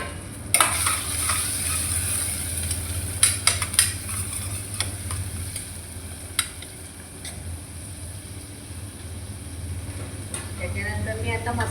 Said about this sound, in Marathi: तो पण थोडासा परतून घेते